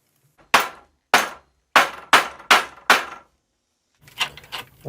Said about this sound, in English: More biscuits, tap them in